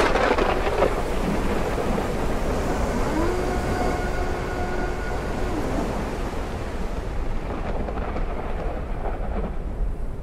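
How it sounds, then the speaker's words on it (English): A thunderstorm in the video game Forever Skies roars steadily throughout, a loud dense wash of rain and rumbling thunder with no speech, easing only slightly toward the end. "Those storms are noisy."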